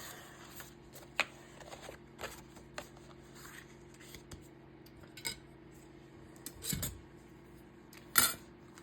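Paper pieces for a quiet collage are trimmed with scissors, giving sparse, soft snips and rustles with a sharper cut near the end, close and alone in a quiet room.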